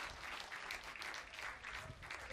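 Audience applause fills a men's skeet shooting medal ceremony, a dense, steady wash of many hands clapping at once, sustained at an even loudness throughout.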